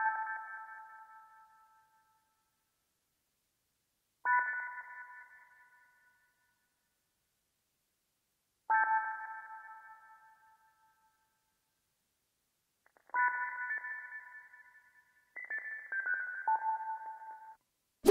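Lo-fi synth stabs with a downsampled, gritty texture: five short bright chord hits spaced a few seconds apart, each decaying quickly into silence, the last two closer together.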